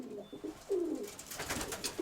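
Pigeons cooing softly in a backyard loft, a low throaty coo rising midway through and followed by quieter murmuring, with faint rustling around the birds and no talking.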